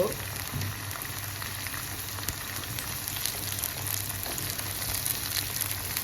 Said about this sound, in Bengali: আমি এখন কাঁচামরিচগুলো ভেজে নেব